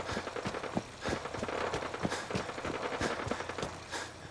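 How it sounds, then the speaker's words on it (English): Gunfire rings out in the video game Fallout 4, a string of fairly faint, distant cracks and bursts spaced unevenly over several seconds, with some clattering between shots and no voices. "So we hear gunfire again."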